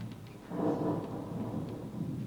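Stage thunderstorm effect in a live Tempest performance: a low rolling rumble of thunder swells and lingers over a soft rain-like hiss, with no speech.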